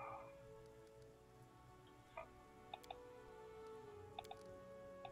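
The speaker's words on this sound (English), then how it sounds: "Alright, starting to rain" Rain falls in the video game Pathfinder: Kingmaker, a faint steady patter with scattered clicks and drips over a quiet tonal game ambience.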